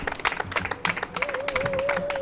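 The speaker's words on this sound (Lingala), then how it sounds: "Veuillez vous joindre à moi pour encore nous applaudir pour le travail fait" An audience claps at a first-anniversary gathering for Congo Fort, with uneven, scattered applause that is moderately close, while a steady tone sounds over the second half.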